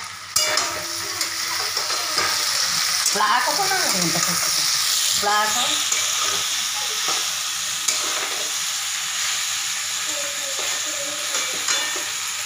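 Okra (bhindi) fries in a pan with a continuous close sizzle, and stirring scrapes come and go while a voice speaks briefly over the cooking noise.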